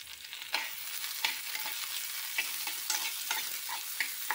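Three onions, cut into large pieces, sizzle steadily in a hot pan while being stirred, with a crisp scrape every second or so over a continuous close frying hiss.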